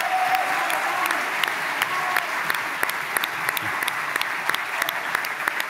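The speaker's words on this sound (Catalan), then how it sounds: "un aplaudiment, sisplau" Sustained applause from the audience at a Catalan radio awards ceremony, dense clapping with sharper individual claps standing out, continuous for several seconds without speech.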